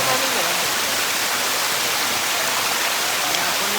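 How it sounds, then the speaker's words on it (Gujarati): Kadamgiri waterfall, a loud, dense, unbroken roar of falling water heard close up and steady throughout, with no clear voices over it. "જોરદાર ધોધ."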